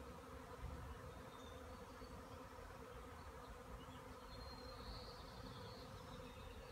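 A steady, dense buzzing of many honeybees swarming after leaving their hive, continuous and low, like a swarm gathered nearby with no voices.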